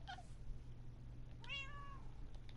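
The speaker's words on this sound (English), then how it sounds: "One of the cats, might be one that we already tamed, just chirped." Cat in Minecraft, a single faint meow-like chirp with a rising then falling pitch, alone over a quiet low background hum.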